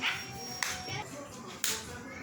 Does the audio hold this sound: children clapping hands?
yes